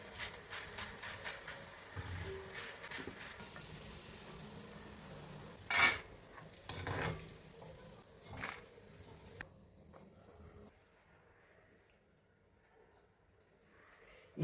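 Bakery-style mixture fries crisply in hot oil with a soft, steady sizzle and hiss, broken by a few louder crackles and stirring bumps before fading quieter toward the end.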